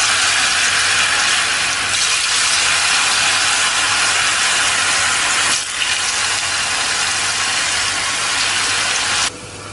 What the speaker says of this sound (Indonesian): Kalau sudah dipotong-potong semuanya, kita akan goreng terlebih dahulu tahunya.